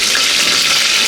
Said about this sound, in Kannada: ಸೊ ಬೆಳ್ಳುಳ್ಳಿ ಹಾಕಿದಾದ್ಮೇಲೆ ಇದಕ್ಕೆ ನಾನು ಕರಿಬೇವು ಹಾಕೋತಾ ಇದ್ದೀನಿ.